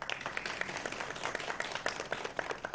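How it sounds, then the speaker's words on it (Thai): An audience claps for a Thai speaker in a steady, moderately loud patter of many hands, with a few sharper individual claps standing out and faint murmurs beneath. "ขอเสียงปรบมือนะครับ"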